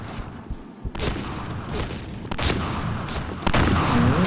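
Rapid gunfire in the online shooter game Point Blank, dense bursts of shots and booms heard close and loud, with no clear speech.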